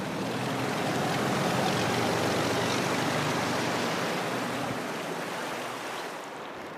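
The Daning River north of Wushan, China, shallow and winding, gives off a broad, continuous rushing of flowing water, loud and even throughout and easing slightly toward the end, with no voices.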